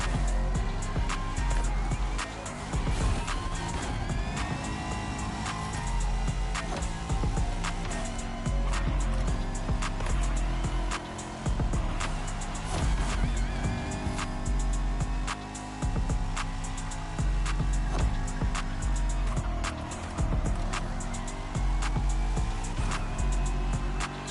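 A Bentley Bacalar races through a turn-heavy course in The Crew Motorfest, its engine droning loud and steady throughout, with rising and falling revs and brief tire noise over a constant rumble.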